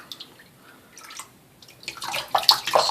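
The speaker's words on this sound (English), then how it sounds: "Gonna wet the brush," Water dripping and splashing while a synthetic shaving brush is wetted, faint scattered drips at first, then louder sloshing and trickling toward the end, close by with no talk.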